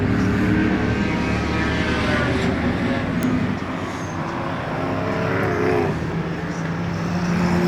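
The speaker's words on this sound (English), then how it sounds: "What a beautiful sound that car makes. Ford V8." A Ford V8 superstock race car engine roars continuously at moderate distance at a night race in Wanganui, its pitch shifting as it passes, with a broad rumbling drone and crowd-like ambience.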